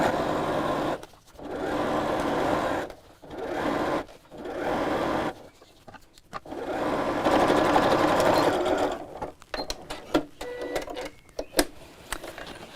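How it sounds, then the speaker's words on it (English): A sewing machine top stitches around a crossbody bag with a letterbox zip, running in steady close bursts separated by short pauses, with lighter clicking handling noises near the end. "I'm just going to keep pulling the lining away from the seam and carefully top stitch all the way around."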